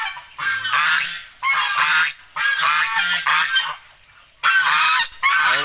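Domestic goose honking loudly and close in repeated bursts, harsh nasal calls separated by brief pauses, with no talk over them.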